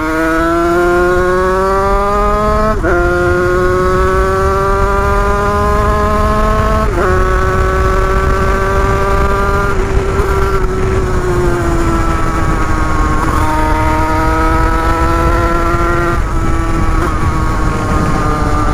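A Beta EN 86 motorcycle's small two-stroke engine drones loudly and steadily while riding, with its pitch stepping up through gear changes and easing off several times, close and alone with no talk.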